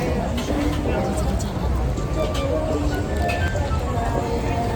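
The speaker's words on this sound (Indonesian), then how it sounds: "di bawah gerimis hujan yang tiba-tiba turun" Light drizzle on a city street in Hat Yai, Thailand at night, a steady close patter and hiss with street bustle and a murmur of voices in the background.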